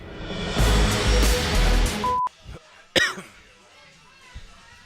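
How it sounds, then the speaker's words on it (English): Music cuts off abruptly, followed by a single sharp cough close up, then quiet with faint rustling. "I can hear your coughs right in my eardrums."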